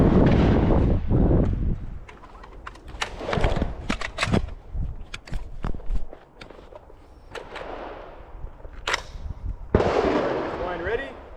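Rifle shots at an outdoor shooting range, a series of sharp, loud cracks at irregular intervals, some close and some from neighboring shooters, with brief voices in between.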